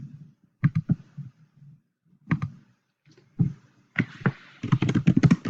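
Fingers tap on a computer keyboard nearby, in short bursts of clicking keys with brief pauses, building into a faster, denser run of keystrokes toward the end.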